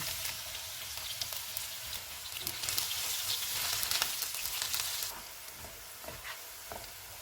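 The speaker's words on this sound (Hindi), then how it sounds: "ऑयल गर्म हो गया, इसमें बड़े साइज़ का एक प्याज डालेंगे और इसको गोल्डन ब्राउन फ्राई करेंगे" A large onion frying golden brown in half a cup of hot oil, giving a steady bright sizzle that swells in the middle and then settles, with no talking.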